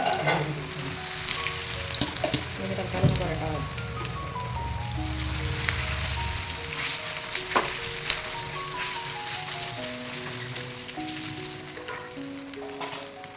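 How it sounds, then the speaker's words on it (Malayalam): Steady oily sizzling of food frying in hot oil, with occasional sharper pops and crackles and faint clinks, continuing throughout without any talking. "അപ്പോൾ നമ്മളിതാ ചിക്കനും കൂടെ അങ്ങോട്ട് പൊരിച്ചെടുക്കുകയാണ്"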